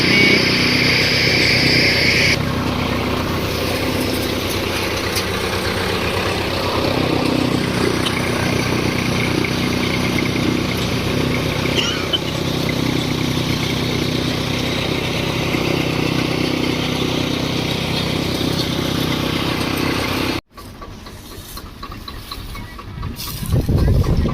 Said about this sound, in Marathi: फाइनली मशीन चालू हो गई है